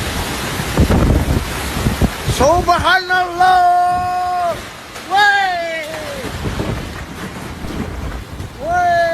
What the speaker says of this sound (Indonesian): Inilah detik-detik hujan deras disertai angin kencang yang terjadi di Kabupaten Banjarnegara, Jawa Tengah.